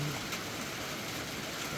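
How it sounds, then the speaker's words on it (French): Heavy rain pours down outside a mountain shelter, a soft, steady wash of hiss with no break and no voices. "Comme vous pouvez l'entendre, ça tombe, ça pleut beaucoup."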